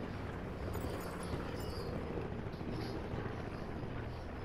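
A helicopter in the battle royale game Blackout drones steadily with a broad, constant rotor roar that holds at an even level throughout, with no talking over it.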